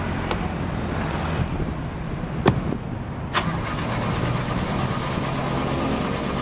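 A car engine cranks with difficulty, a couple of short failed turns before it catches and settles into a steady, loud idle with no voices over it.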